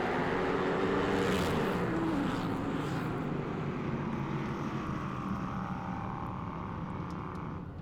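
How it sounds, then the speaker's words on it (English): Flat track SuperTwins motorcycles, including an Indian, roar at a short track race in Senoia, a loud continuous engine drone that fades slightly as the bikes pass, with no voices. "Jared Mees wins it on the Indian here in Senoia"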